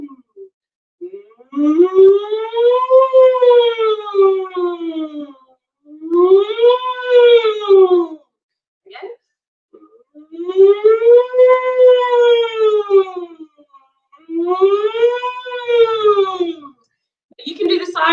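A voice imitates a siren, sliding up and down in long wailing sweeps, repeated several times with short pauses between, loud and close.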